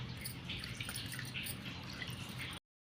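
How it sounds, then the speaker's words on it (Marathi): Raw mangoes being washed in water, with close, continuous soft splashing, dripping and squishing for a few seconds before stopping abruptly. "कैरी आपण आता स्वच्छ धुवून घेणार आहोत"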